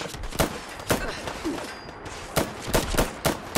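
Semi-automatic SIG MCX rifle gunshots in Fallout 4, several sharp loud reports fired singly at uneven intervals, with a quick pair and then a rapid cluster near the end over a steady low game background.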